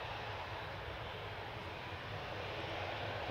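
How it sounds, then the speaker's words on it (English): Turkish Airlines Airbus A321neo landing at Manchester Airport, a steady, even roar of jet engines heard from a distance, broad and unbroken for the whole stretch with no voices. "It's Turkish Airlines Airbus A321neo, which is arriving from Istanbul."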